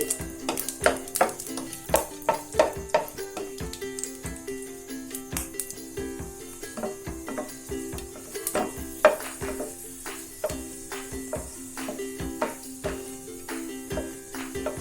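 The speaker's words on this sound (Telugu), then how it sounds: "ఒక స్పూన్ నెయ్యి వేసి ఈ డ్రై ఫ్రూట్స్ని వేయించుకోవాలి." Dry fruits fry in ghee in a hot pan, a soft steady sizzle punctuated by repeated sharp scrapes and clinks of a spoon stirring against the metal, close and alone.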